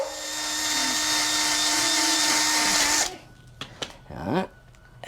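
A power tool scuffs the varnish off brake shoes from a 1969 Honda CD90Z with a loud, steady high-pitched whine for about three seconds, then cuts off, leaving a few scattered handling clunks.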